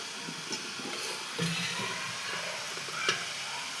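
Egg curry (dim kosha) sautéing in a pan gives a steady low sizzle and hiss, broken by a few soft stirring scrapes and clinks, close by with no talking.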